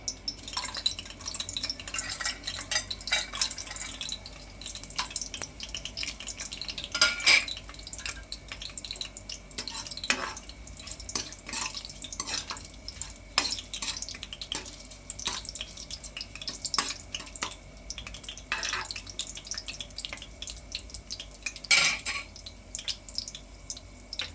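Ingredients for tomato rice sizzle softly in oil in a pan, a low continuous fry marked by scattered crackles, drips and occasional stirring scrapes over about twenty seconds.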